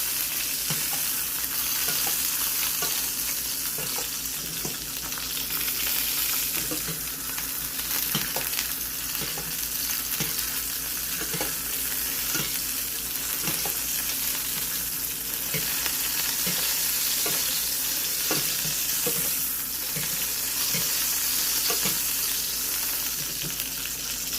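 Fish frying in a pan with a dense, constant sizzle throughout, broken by light scrapes and taps of a utensil, close and steady with no voices.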